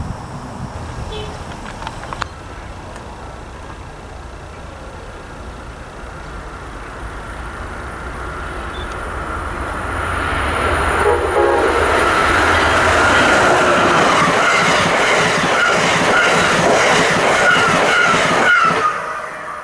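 A northbound Amtrak Acela climbs the grade into Bowie, Maryland, building from a distant rumble to a loud, close rush of wheels and rail clatter that holds for several seconds before dropping away.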